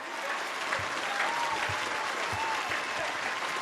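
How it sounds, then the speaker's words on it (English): A round of applause from a small crowd, steady clapping at moderate distance, fairly quiet and sustained throughout. "Round of applause for my guy."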